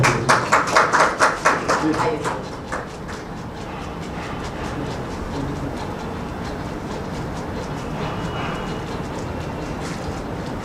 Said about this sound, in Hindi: तालियों में स्वागत करके